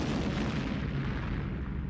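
A huge 12-inch naval gun, converted from battleship use and mounted on a rail platform, fires with a loud, dense roaring boom that fills the whole moment and slowly fades.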